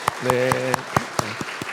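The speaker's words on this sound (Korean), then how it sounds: "우리 환영의 박수 하도록 하겠습니다" A church congregation at a Sunday morning service claps in an evenly paced run of sharp, distinct claps, under someone talking close to the microphone.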